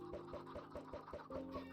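Several chickens cluck in a steady, rhythmic series of short calls, close and moderately loud, with no one speaking over them.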